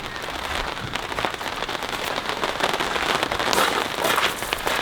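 Simulated rain patters densely on the canvas of a Kings 270 free-standing awning, a steady close crackling hiss of drops with no pauses.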